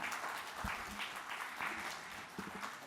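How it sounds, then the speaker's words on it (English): Modest round of applause from a conference audience at a banking summit, fairly faint and distant with scattered individual claps. "Can we have a big round of applause for HLB Hemd?"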